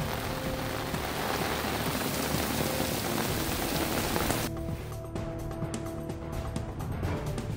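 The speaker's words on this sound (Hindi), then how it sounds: "यवतमाळ जिल्ह्यात विजांच्या गडगडाटासह जोरदार पाऊस" Heavy rain from a thunderstorm in Yavatmal district pours down in a dense, continuous hiss, with the tone shifting partway through and no voices.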